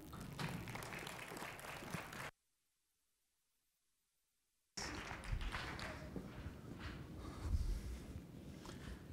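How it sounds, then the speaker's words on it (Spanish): Audience applause at a talk on electromovility, heard as rough, fairly quiet clapping that cuts out to a few seconds of silence and then resumes, scattered and uneven, with thumps mixed in. "les pido un aplauso para Héctor del Pino"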